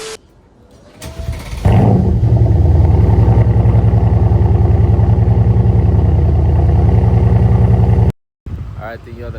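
A Mercedes C63 S with its mufflers cut off fires up from cold, a brief starter crank bursting into a loud, deep, steady rumbling idle that holds close and unbroken for several seconds before cutting off abruptly.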